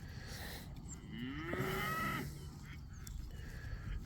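Charolais-cross cows and bulls mooing on a farm, one long, drawn-out moo rising and falling in the middle over a noisy outdoor background, with fainter calls around it.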